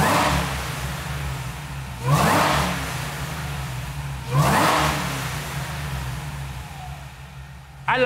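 Supercharged car engine running on E85 fuel, idling steadily and blipped twice in short revs to about 4,000 rpm, each rev rising sharply then settling back to idle, close by.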